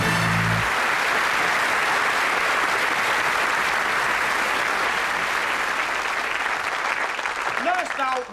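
A television studio audience at a comedy special breaks into loud, sustained applause lasting several seconds, fading slightly at the end as a voice begins.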